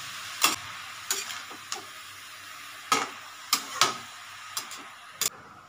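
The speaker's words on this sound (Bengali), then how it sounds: "একটু আমি নেড়ে দিচ্ছি" A spoon stirs bottle gourd cooking in milk in a pan, giving a handful of scattered scraping clicks and taps over a soft sizzle, close and fairly quiet.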